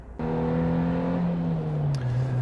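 A 2018 Suzuki Jimny's 1.5 litre naturally aspirated engine starts abruptly and holds a loud, steady droning note close by. The pitch sags slightly toward the end.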